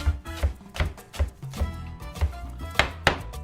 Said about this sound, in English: To chop basil, you just get it and put it all together